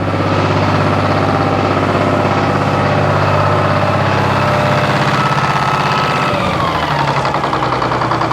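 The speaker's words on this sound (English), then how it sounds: "I'm going to lower the idle here a little bit." A loud, steady engine idles with its power takeoff engaged to drive hydraulics while a sawmill is readied. The drone runs continuously, then its pitch drops as the idle is lowered near the end.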